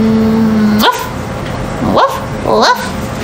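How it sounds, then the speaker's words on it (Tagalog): A dog barks on command three times, sharp separate barks spaced about a second apart, close and loud over a steady background hum. "Dio, tahol ka."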